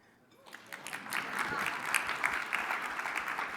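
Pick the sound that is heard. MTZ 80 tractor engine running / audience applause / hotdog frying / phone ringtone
audience applause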